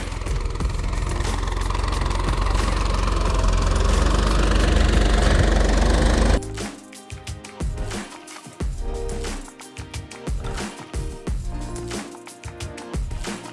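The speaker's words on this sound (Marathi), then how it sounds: "तर आपलं ट्रॅक्टर चालू आहे" A Swaraj 855 FE tractor ploughing a field: a loud, steady engine roar that cuts off abruptly and becomes a rougher, chugging diesel idle with uneven knocking pulses.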